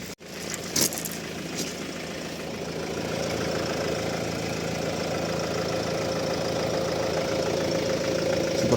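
Suzuki Grand Vitara engine idling as it warms up, a steady close mid-pitched running drone with a faint knocking texture, growing slightly louder after a few seconds and continuing evenly without speech.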